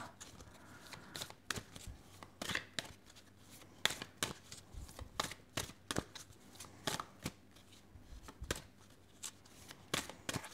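Lenormand cards are shuffled by hand in repeated soft riffles and taps, an irregular close rhythm of quiet papery bursts.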